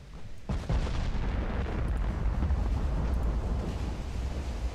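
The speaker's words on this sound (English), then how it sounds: "11-inch shells hitting one of my battleships." 11-inch naval shells strike a battleship in the Ultimate Admiral: Dreadnoughts video game, a sharp thud followed by a sustained low rumbling roar of impacts and blast, heavy and close.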